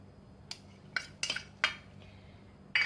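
A spoon stirs shrimp ball ingredients, including cornflour and coriander leaves, in a bowl. About five sharp, close metallic clinks come at irregular intervals, and no one speaks.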